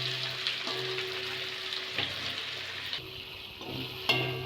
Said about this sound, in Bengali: আলুগুলো দিয়ে একটু ভেজে নেবো।